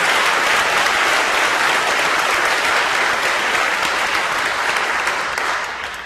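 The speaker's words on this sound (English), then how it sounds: "I hope you'll join me in giving him a round of applause" A large evening event audience claps loudly and continuously, a thick, even roar of hands that barely tapers near the end.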